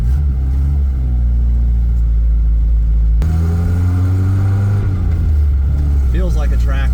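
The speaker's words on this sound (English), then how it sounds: "Let's take this thing for a drive, see how she shifts." A Toyota TE72 wagon with a swapped 5-speed gearbox driving, its engine droning loud and close inside the cabin, then dropping and climbing in pitch through a gear change, with a voice speaking near the end.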